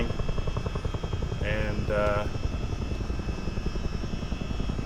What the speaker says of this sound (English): Not a lot of precision flying done in this helicopter